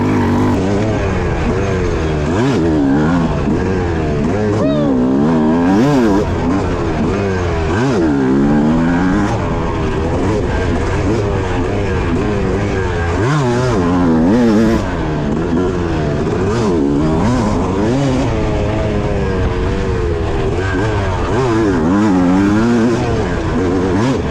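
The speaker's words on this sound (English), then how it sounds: "I feel like the bike can just carry so much more speed everywhere now, more power." A two-stroke dirt bike fitted with a Lectron Pro carburetor ridden fast, its engine loud and close, repeatedly revving up and down through gears in rising and falling wails.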